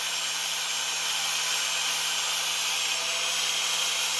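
A drill runs somewhere nearby, giving a steady, unbroken whirring hiss with a faint low hum that holds at an even loudness for the whole stretch. No one speaks.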